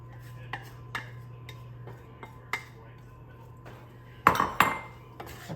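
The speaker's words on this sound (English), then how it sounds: "I'm gonna go ahead and add in the veggies." Vegetables tipped into a pan of already-cooked meat on a stovetop make a few light scrapes and metallic clinks, with a louder clatter of utensil against the pan near the end over a steady low hum.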